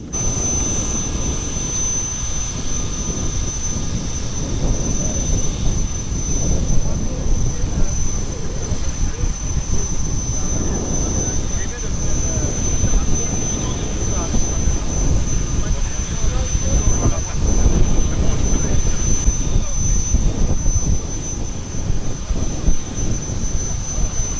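Steady, loud roar of a jet airliner engine, as heard near or inside a plane before a flight to Kinshasa, a continuous broadband rumble with a high whine that holds for the whole span with no break.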